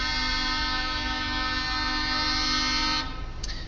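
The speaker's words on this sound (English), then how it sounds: "Honking the horn will make this move so much faster." A loud, sustained horn blares continuously with a steady harmonic tone for about three seconds, then cuts off, leaving a brief faint tail of traffic noise.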